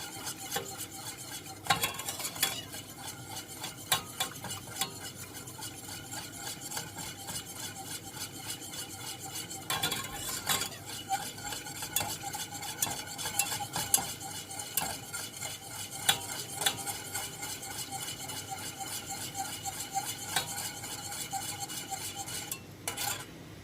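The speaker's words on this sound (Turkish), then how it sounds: "Çırpıcıyı da sürekli karıştıralım ki topaklanmasın diye." A whisk stirs béchamel sauce in a pan with steady, close scraping and rasping strokes that continue for the whole stretch, with faint sizzling underneath and no speech.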